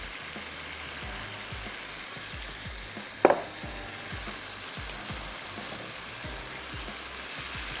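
Meat fries in a pot with browned onion and turmeric powder, a continuous close sizzle and crackle with a single sharp clatter partway through.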